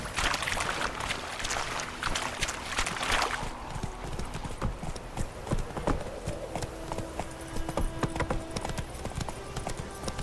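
A horse's hooves clip-clop in The Witcher 3, an irregular thudding rhythm, busy and loud at first and then thinner, with faint background sound underneath.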